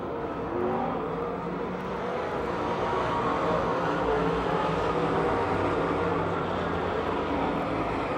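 Race cars roaring around Pennsylvania Motor Speedway near Pittsburgh, a continuous loud wash of engine noise from the pack with no clear passes standing out.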